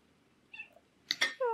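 A pet cat meows indoors, a few short, fairly faint calls, with a soft earlier chirp before two brighter meows and a final drawn-out one.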